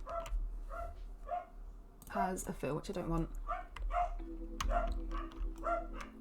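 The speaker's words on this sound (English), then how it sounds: "Sorry if you can hear my dogs barking" Dogs bark repeatedly in short bursts, fairly close, while a person talks over them in the foreground.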